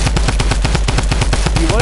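Rapid automatic gunfire from a video game squad match, a fast, steady stream of loud, close shots rattling continuously from start to finish.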